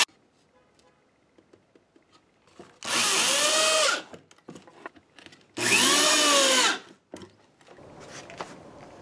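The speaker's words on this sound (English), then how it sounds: "all holes need to be pre-drilled so nothing will split" A power drill pre-drills screw holes in plywood during a home telescope build, giving two loud, whining bursts of about a second each that rise and fall in pitch, separated by quiet handling noises.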